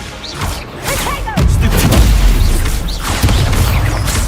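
An Incendio fire spell cast in Hogwarts Legacy bursts out as a string of loud booming blasts and crackling pops, with a heavy swell of rumbling impact through the middle and end.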